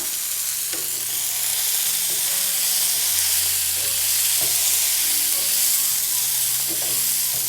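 Tomatoes fry in a pan over raised medium flame, a dense continuous hiss with occasional soft spatula scrapes and taps as they are stirred.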